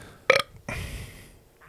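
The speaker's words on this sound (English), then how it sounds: "another point for each of us for belching into the mic" Two belches close to the microphone, a short sharp burp followed by a longer, rumbling one, with no talking over them.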